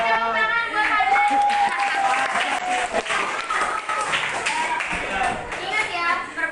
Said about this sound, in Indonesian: Tepuk tangan buat Fadlan.